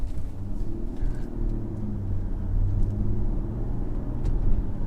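A 2014 VW Touareg R-Line SUV drives along with a low, steady engine rumble and road noise from inside the cabin, swelling slightly toward the end.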